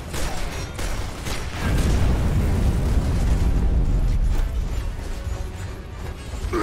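A grenade blast in Gears of War lands as a loud, rumbling low boom that swells and holds for several seconds, then tails off into game noise.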